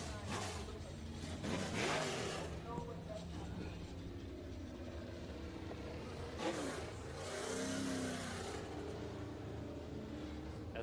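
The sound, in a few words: IMCA Sport Mod race car engines at Bakersfield Speedway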